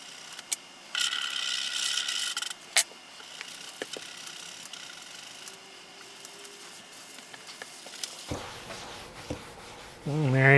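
Close scraping of old tape residue off an IBM 5154 CRT monitor, with bursts of rasping and clicky ratcheting strokes, a longer quieter stretch, then a louder scrape at the end.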